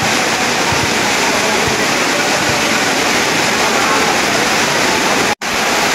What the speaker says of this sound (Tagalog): Baha na. Masok na dito sa court.